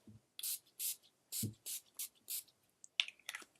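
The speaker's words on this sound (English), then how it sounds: "now I'm just going to prime my face with my NYX primer spray" Several short, hissing sprays of NYX face primer spray burst out in quick succession, close and fairly quiet, with small handling sounds between them.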